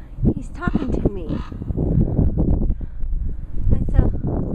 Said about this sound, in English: That's a blackbird. He's talking to me.